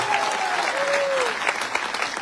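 A seated audience claps in honor of a guest during a motivational success-story talk. A short burst of steady, full applause is heard with a brief faint whistle-like tone early on.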